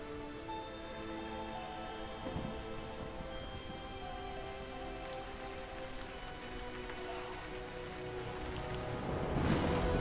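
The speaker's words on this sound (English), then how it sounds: "There's the heavy rain right there." Heavy rain in the video game Ori and the Blind Forest, a quiet continuous patter over sustained tonal music, swelling into a louder rush near the end.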